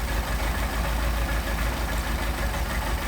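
A car engine with a Solex carburetor idles steadily and loudly during an idle mixture screw adjustment, a constant low rumble with no voices.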